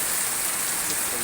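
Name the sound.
heavy rain in Cikarang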